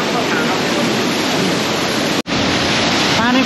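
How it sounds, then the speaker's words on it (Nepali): Heavy water rushes and roars steadily up close, a broad continuous flow like a waterfall or swollen stream, with a brief sharp dropout just past the middle before the torrent resumes. "झर्ना बगिरहेछ"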